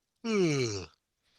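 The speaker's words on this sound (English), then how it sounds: "She's yawning." A woman yawns once, a drawn-out voiced exhale that falls in pitch over about three quarters of a second, close and clear, followed by silence.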